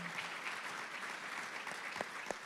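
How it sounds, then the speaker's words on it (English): Faint, distant audience applause at a hardware and apps tech talk, a soft continuous patter of clapping with a couple of sharper claps near the end. "Terry, round of applause."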